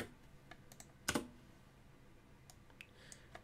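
Faint, sparse key clicks on a computer keyboard while a command is typed to launch a Minecraft server, a small cluster of louder taps near the middle and scattered lighter ones after.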